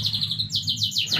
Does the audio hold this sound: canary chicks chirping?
yes